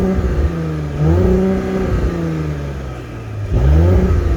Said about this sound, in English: Okay, and so let's listen to the exhaust here.